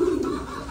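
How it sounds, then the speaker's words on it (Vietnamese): An American giant pigeon, the largest pigeon breed, gives a short, low, breathy coo up close, heard alone with no talk. "đó là bồ câu gà Mỹ á, là một giống chim bồ câu to nhất hiện tại"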